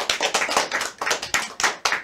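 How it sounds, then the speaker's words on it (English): A school class applauding themselves, quick bursts of several hands clapping together in an uneven rhythm, fairly close, no talking. "They're applauding themselves"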